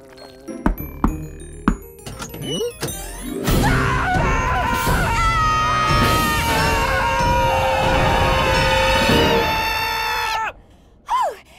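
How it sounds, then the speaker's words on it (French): Cartoon characters from the French-dubbed animated series Squish scream together in the morning, a loud sustained chorus of high, wavering voices lasting several seconds after a few sharp thuds and gasps, then breaking off abruptly. "J'adore nos hurlements du matin!"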